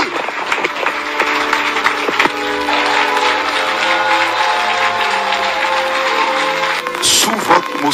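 A church congregation standing claps and cheers continuously for Jesus, a dense applause with voices mixed in and a brief louder burst near the end.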